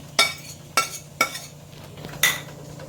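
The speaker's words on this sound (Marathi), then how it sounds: "हे बघा, मी आता कांदा परतून घेते" Onion being sautéed in a pan for a Maharashtrian stuffed ridge gourd dish, heard as four sharp metal clinks of a spatula against the pan at uneven intervals, with a faint steady background hum between strikes.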